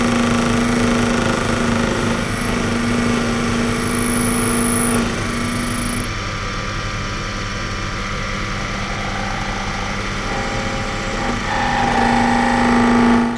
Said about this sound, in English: so I cleaned it up with a chamfer tool